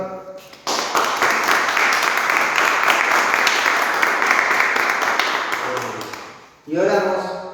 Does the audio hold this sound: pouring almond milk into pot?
no